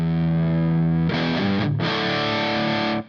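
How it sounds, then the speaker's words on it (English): Electric guitar played through a HeadRush Black Prince Reverb amp model, a held distorted chord ringing thick and loud, then a fresh strummed chord cutting in and sustaining before stopping abruptly. "Let's just try the Black Prince Reverb amp"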